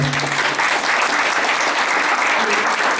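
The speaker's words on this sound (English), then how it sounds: "If we give them another round of applause." Sustained audience applause at a school board of education meeting, a steady dense wash of many hands clapping throughout with no pauses, fairly loud and even from start to finish.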